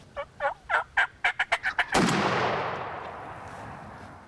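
A wild turkey gobbles in a rapid descending series of about nine loud, close calls outdoors during a spring hunt, cut off by a sharp gunshot that echoes and fades.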